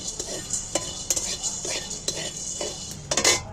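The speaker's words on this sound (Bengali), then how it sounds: "লবঙ্গ জায়ফল এগুলো একটু গরম খোলা নেড়ে নেবো" Whole cloves and nutmeg stirred in a hot pan for a chicken curry, giving scattered light clinks and scrapes of a utensil against the pan with faint sizzling, close and moderately quiet, without talk.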